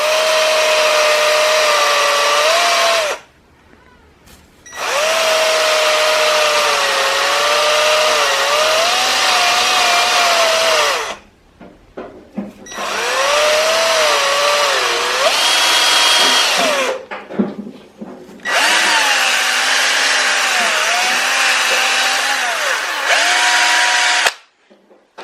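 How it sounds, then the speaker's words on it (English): Small Harbor Freight angle grinder clamped in a vise, grinding engine valves with an aggressive wheel: a loud whining tone in four long runs, the pitch dipping under load, separated by brief silences. "It's a little Harbor Freight angle grinder on a vise"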